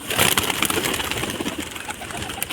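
Pigeons coo softly amid a dense flock, with fluttering and rustling noise close by; no talking.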